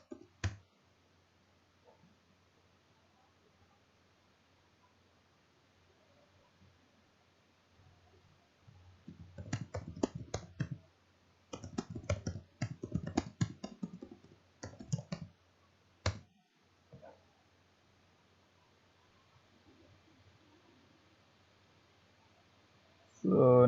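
Fingers type a prompt on a computer keyboard in bursts of quick, close clicking, separated by quiet pauses, with no voices.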